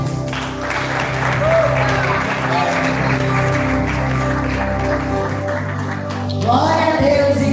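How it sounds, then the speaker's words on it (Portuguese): A church congregation during a communion service applauds steadily for several seconds, a broad wash of clapping with a voice speaking over it and musical tones underneath. "Palmas para Deus."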